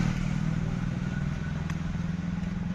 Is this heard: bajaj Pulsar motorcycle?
yes